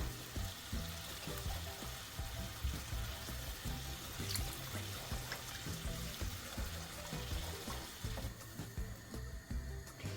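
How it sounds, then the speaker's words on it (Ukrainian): Water poured into a fish sauce for hake while it is stirred, a steady close watery splashing and gurgling with soft bubbling, no voices. "Я беру приблизно 150 грамів води і довожу його до потрібної консистенції, постійно помішуючи."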